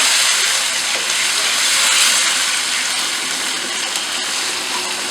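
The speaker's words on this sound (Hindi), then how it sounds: "और साथ ही हम इसमें डाल देंगे आलू। और इसके साथ ही हम डाल देंगे टमाटर।" Potatoes and tomatoes sizzle in a pot of beef biryani, making a loud, steady hiss of frying that carries through unchanged from start to finish.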